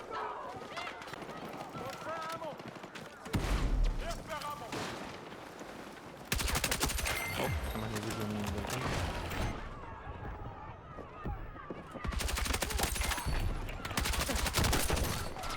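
Rapid bursts of SG 553R rifle fire in Battlefield 6, loud, close and repeated, with full-auto strings broken by short pauses and mixed with game effects and music.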